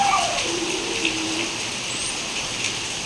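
Steady heavy rain hisses in a constant wash at midday under a darkened sky, with a faint voice sliding across early on and no clear drops standing out.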